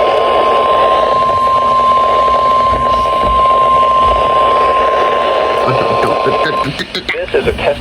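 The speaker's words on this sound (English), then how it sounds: "This is a test of the National Weather Service weather radio warning alarm" NOAA weather radio warning alarm test tone, a loud steady single-pitched tone held for several seconds before cutting off into someone speaking over the broadcast.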